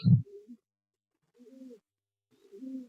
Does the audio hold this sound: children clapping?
no